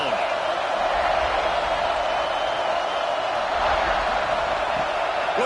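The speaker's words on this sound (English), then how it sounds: "This crowd ready to make its presence known." Stadium crowd at a college football game, a broad, continuous roar that holds at a high, even level throughout with slight swells, heard from within the stands while a voice talks over it.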